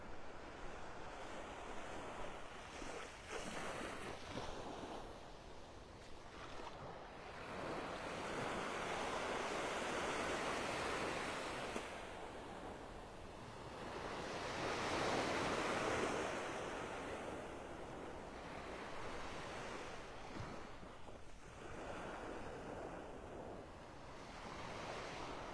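Surf rolls onto Vanderbilt Beach in North Naples, Florida, in broad swelling washes that rise and fade every few seconds. Steady wind rumbles on the microphone and no one speaks.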